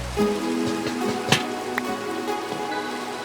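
Rain falling at night, a soft steady patter with scattered sharper drips and taps, fairly close, continuous throughout without any voices.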